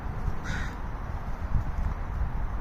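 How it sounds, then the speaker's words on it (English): A crow caws once, short and harsh, a little way off, over a steady outdoor background rumble in a spot where pigeons are feeding. "the crows are up there making some noise"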